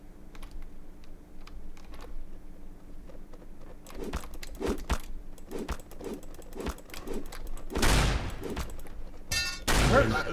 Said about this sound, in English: Somebody has a shotgun.